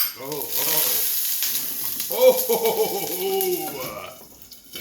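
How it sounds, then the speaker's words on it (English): Water hitting a hot pan while making cabbage kofta curry, a hissing sizzle with bubbling, crackling bursts, close and loud, while a voice talks over part of it. "That was the water in the pan"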